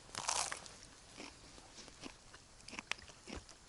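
Raw chicory being bitten and chewed outdoors in a forest camp, with a few crisp crunching bites spaced apart, close and fairly quiet against faint background noise.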